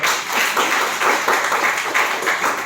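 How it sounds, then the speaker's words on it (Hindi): A crowd applauding, dense rapid clapping at steady volume for a few seconds, with no voices over it. "उनके लिए जोरदार ताली चाहता हूँ।"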